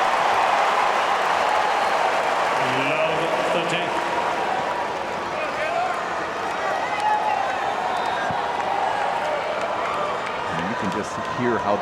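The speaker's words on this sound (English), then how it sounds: "Hear how this crowd desperate to see the dramatics of a fifth set." A US Open semifinal tennis crowd between Taylor Fritz and Frances Tiafoe roars and cheers steadily, a loud sustained stadium din with a radio commentator talking over it.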